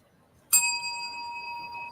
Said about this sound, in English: Can we get a bell?